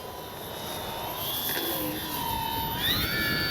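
An RC Avios Twin Otter model plane flies in gusty wind, a thin engine whine shifting in pitch as it passes, heard over steady rumbling wind noise with no talking.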